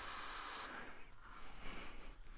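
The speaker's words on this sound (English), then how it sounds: "I'm going to clean the outside perimeter of the flywheel with carburetor cleaner so it doesn't slip on all that oil" Carburetor cleaner sprays from an aerosol can onto an engine flywheel in one short, loud hiss that cuts off abruptly, followed by quieter background noise.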